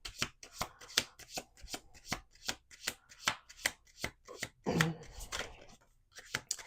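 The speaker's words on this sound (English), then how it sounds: "It either needs to flip over or it needs to fall from the deck for me to take it as a card." Deck of tarot cards being shuffled by hand, a close, steady run of crisp riffling snaps at a regular pace, with a brief rustling flurry near the end.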